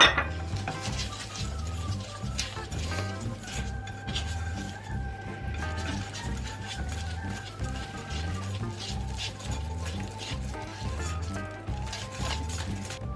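A utensil stirs eggs in a cooking pot for a rolled banana and strawberry cake batter, giving repeated light scraping and clinking against the pot in a steady rhythm, close up with a low hum underneath.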